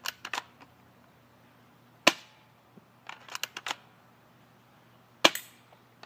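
Airsoft gun fired at targets on an outdoor range: a few sharp single pops and short bursts of clicks and snaps, spaced out across the moment, with quiet gaps between them and no talk.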